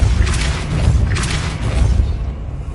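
A Depulso force spell cast in Hogwarts Legacy lands as a loud, booming burst, with two broad surges of energy over a deep rumbling low end that continues under the whole effect.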